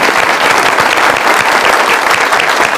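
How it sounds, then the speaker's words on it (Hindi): A live show audience breaks into loud, dense applause for a performer, continuous and close, with only a faint crowd murmur under it. "वजाहत भाई के लिए जोरदार तालियां।"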